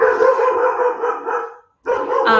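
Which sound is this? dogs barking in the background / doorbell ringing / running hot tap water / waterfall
dogs barking in the background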